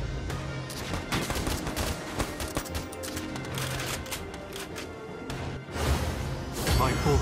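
Bursts of gunfire in the Valkyria Chronicles 4 video game, a rapid fusillade of overlapping shots and machine-gun rattles, loud and close, with brief explosive crashes near the end.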